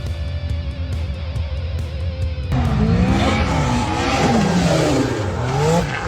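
A race car at speed, engine roaring loud and close, then a harsh burst of tire squeal and skidding as it loses control, the noise thickening and sweeping through the final seconds.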